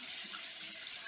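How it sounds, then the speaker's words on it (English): Cold water runs steadily from a tap onto a towel, a constant close splashing hiss with no voices. "turn on the cold water as stated"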